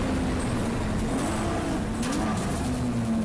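A race car engine drones steadily and loudly, its pitch dipping and rising in quick blips as it downshifts into a corner.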